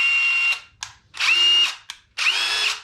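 Craftsman brushless impact driver in its third speed mode, whining in three loud, steady bursts of about half a second each, separated by brief pauses and short clicks.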